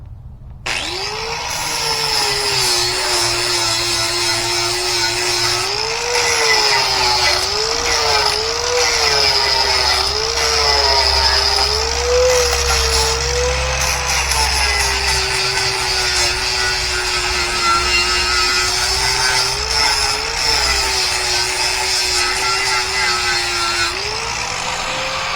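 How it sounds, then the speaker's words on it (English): A power tool grinds metal before welding on a kayak trailer build, a loud close whine held steady with slight wavering for over twenty seconds before it cuts off. "grind the area off so you have good penetration"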